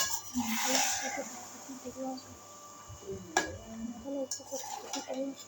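Mutton with salt, garam masala and other spices is stirred in a pan, giving soft intermittent scrapes and clinks of a spoon against metal, faint and close, with quiet talk in the background.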